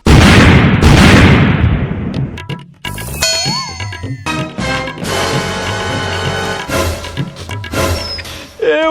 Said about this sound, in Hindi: तब फटाटा फूट गया